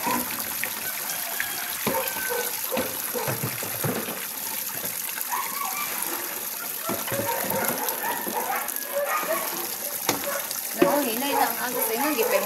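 Water runs steadily from a tap while something is being cleaned, giving an unbroken splashing hiss with small clatters and shifts in flow, close by and fairly loud.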